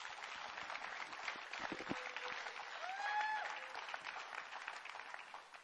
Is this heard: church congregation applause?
yes